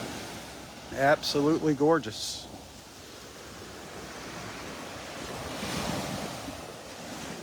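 Gulf waves wash onto the sand at Wiggins Pass beach as the tide comes in, a steady soft roar with wind across the microphone, and someone speaks briefly near the start.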